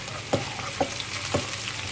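Red chilies dropped into hot oil for a Chinese cabbage stir fry, giving a steady sizzle with three brief louder bursts of stirring or crackle, close up and with no talking.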